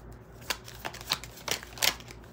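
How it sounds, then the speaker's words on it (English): Cards being shuffled in a few quick riffling bursts, close up and crisp, with short pauses between them. "I shuffled the cards right."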